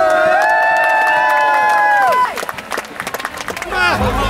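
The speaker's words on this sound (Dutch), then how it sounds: "Doe een applaus van de zijkant nog een keer." A crowd gathered for Queen Máxima sends up loud sustained cheering and shouting, then breaks into scattered clapping and calls near the close, while a voice rises above the noise.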